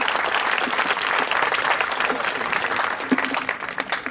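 Applause fills a graduation ceremony hall, a dense, even crowd clapping that holds steady throughout without talk.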